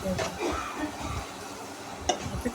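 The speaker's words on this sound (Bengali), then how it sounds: "এখন সব মশলা ভালো করে নেড়ে চেড়ে কষিয়ে নেওয়া পর্যন্ত অপেক্ষা" Spices being stirred and fried in a pan for a beef tripe curry, with a soft continuous sizzle and scraping of the spoon, faint and close.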